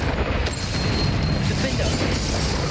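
A Confringo spell explosion in the video game Hogwarts Legacy: a loud, dense burst of booming and crashing that stays at a steady roar throughout, with no calm gaps.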